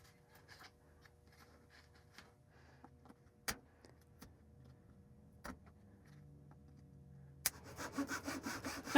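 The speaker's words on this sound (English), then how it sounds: "Here I'm using a handsaw to just cut a series of shallow cuts." A handsaw makes a series of shallow cuts in a wooden guitar neck. Quiet, scattered rasping strokes and a few sharp knocks give way to a quicker run of louder back-and-forth sawing at the end.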